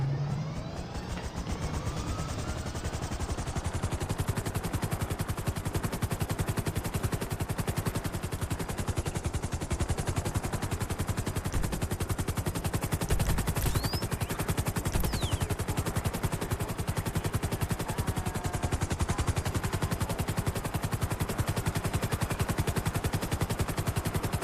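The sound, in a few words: gunfire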